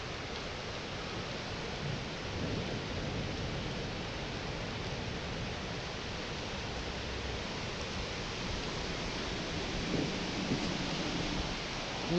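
A thunderstorm with heavy rain on a rainy day while fishing outdoors in Ludlow: steady dense rain hiss fills the whole stretch, with low rumbling thunder swelling beneath it, continuous and without speech.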